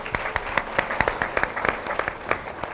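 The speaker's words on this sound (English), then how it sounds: "So clap it up for them." Moderate applause from an annual meeting audience, a steady patter of many hands with a few sharper claps standing out, fairly quiet and continuous.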